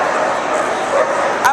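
A Dalmatian at a Crufts rally demonstration gives close, high yips and whimpering bow-wow calls over a crowded arena hum, with voices talking nearby and a brief sharper yelp near the end.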